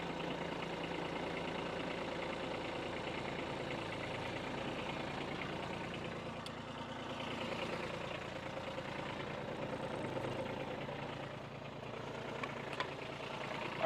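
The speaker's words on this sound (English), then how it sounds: "got the tractor out" A tractor engine idles steadily at a moderate distance, a continuous low rumble with no clear revving, set outdoors where wood rounds are being moved with a bucket loader.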